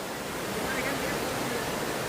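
Elephant Falls waterfall in Meghalaya amid green forest, a dense continuous rush of falling water, steady and enveloping with no breaks.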